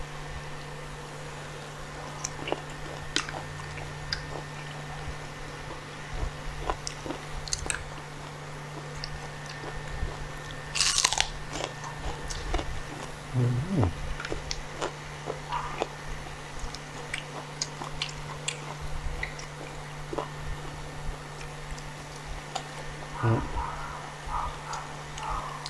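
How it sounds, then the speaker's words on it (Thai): Close-up chewing of crunchy blanched beef with fatty parts, served as the Thai tiger-cry dish, with irregular wet crunches and squishy bites repeating throughout, steady background hum underneath. "เขาสามารถหย่ำได้ครับมันหย่ำกรุบกรุบกรุบดีเลย"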